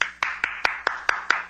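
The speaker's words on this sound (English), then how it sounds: "Aren't you going to applaud" Seven sharp hand claps in a slow, steady rhythm, close and distinct against a quiet background in an old radio drama.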